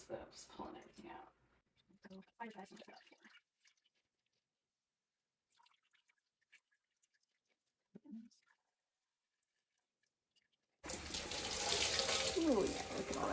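Tap water rushes loudly over naturally dyed fabric being rinsed out; the steady, close flow comes in only near the end, after a long stretch of speech, handling noises and near silence.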